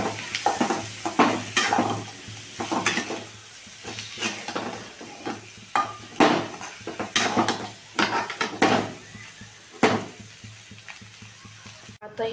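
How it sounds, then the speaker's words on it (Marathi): Potato slices stirred and fried in a pan, with repeated scraping strokes of a spatula over a steady sizzle, close and fairly loud, in an irregular rhythm. "मिक्स करून घ्यायचं"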